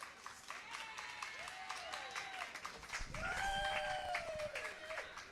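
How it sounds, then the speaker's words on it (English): Applause from a Fringe festival live show audience welcoming guests: steady clapping from a crowd that grows fuller and louder midway, mixed with whoops and cheering voices. "Let's give them a big round of applause."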